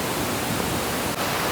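A constant, broad rush of falling water from Curug Lawe near Mount Ungaran, Java, loud and unbroken apart from a faint click near the end.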